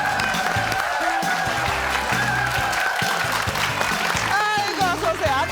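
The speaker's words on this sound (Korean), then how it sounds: "여러분 박수로 맞이해 주십시오" A studio audience on a KBS talk show claps to welcome an actor guest. The applause is loud and sustained across the whole stretch, with a bright musical tune playing over it.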